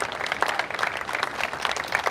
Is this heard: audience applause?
yes